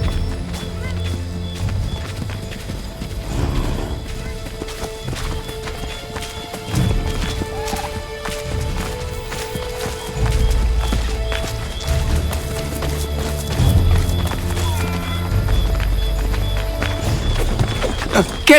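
Horse hooves gallop in a steady, rhythmic clip-clop through the whole stretch in Assassin's Creed 3 Remastered, loud and close, with a brief whinny and continuous game ambience underneath.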